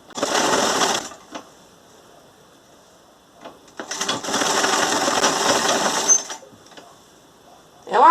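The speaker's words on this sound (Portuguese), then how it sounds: "É uma costura reta que você vai fazer" Sewing machine stitching a straight seam through fabric for a cloth door draft stopper, running in two loud sustained bursts of about one and two seconds with quiet pauses between, close up.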